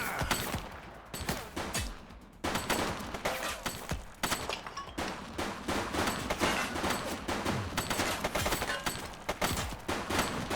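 Sustained gunfire from a suspect shooting in The Precinct, a police video game, with dense, rapid cracks and bursts filling the scene continuously at close range and high volume.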